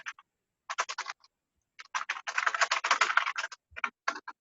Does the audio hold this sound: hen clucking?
no